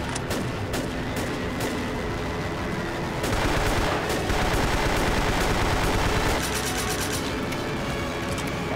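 Grease gun submachine gun fire in the video game Vampire the Masquerade Bloodlines, loud rapid automatic bursts blending into continuous gunfire with sharp reports, heard alone without talk.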